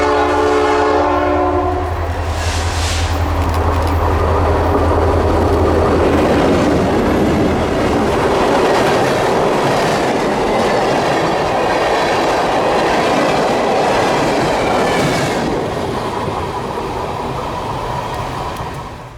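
A freight train led by Illinois Central locomotives passes close by on the Iron Range, opening with a loud horn blast before giving way to a long, heavy rumble of wheels and cars that holds steady throughout.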